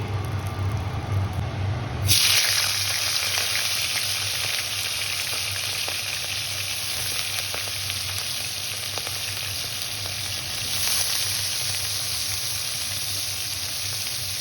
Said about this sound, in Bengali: তো কাঁকড়াটাকে এখন ভাজবো, তো চলো দেখতে থাকো।